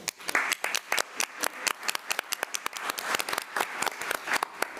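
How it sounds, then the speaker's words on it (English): A school board meeting audience claps for a kindergarten student, a steady burst of many hands applauding close and fairly loud across the whole stretch, with no talk over it. "let's still give him a round of applause"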